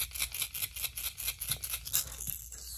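Snatch 70 fishing lure being shaken, giving a rapid, rhythmic rattling with repeated bright clicks close up and no voices.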